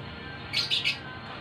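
A hand-fed pet bird gives three quick, bright chirps in a row, close and clear over a quiet room hum, with no speech.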